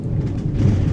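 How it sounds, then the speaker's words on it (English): Low, rolling thunder rumbles steadily through the whole moment, a deep continuous roar heard indoors with no speech over it. "Oh, thunder."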